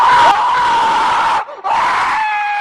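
A man in an animated Hindi horror story screams in pain after being clawed in the stomach: a loud, sustained, strained cry that breaks off briefly and then resumes, close and dominant.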